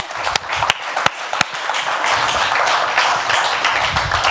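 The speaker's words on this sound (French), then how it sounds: "On les applaudit." At a hi-fi and audio show event, a few sharp isolated claps start things off before the audience swells into full, steady applause that stays fairly loud to the end.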